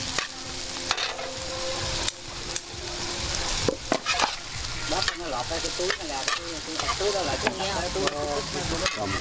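Salted fish frying and being stirred in a pan for fried rice at a countryside wedding feast, with a steady loud sizzle under repeated scraping and stirring strokes throughout.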